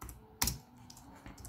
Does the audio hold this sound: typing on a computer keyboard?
yes